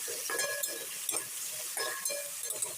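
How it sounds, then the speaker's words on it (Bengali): A spoon scrapes and stirs chopped okra coated with salt and turmeric in a pan, in short irregular strokes with a soft sizzle underneath, close and fairly quiet. "লবণ আর হলুদের গুঁড়োকে ঢেঁড়সের সাথে খুব ভালো করে নেড়ে চেড়ে মিশিয়ে নিতে হবে"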